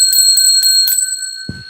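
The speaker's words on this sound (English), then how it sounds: "Here, I got this bell. I ring it 10 times." Hand bell rung repeatedly in quick succession, bright sustained metallic tones with several sharp strikes close to the microphone, then fading out as a voice begins briefly at the end.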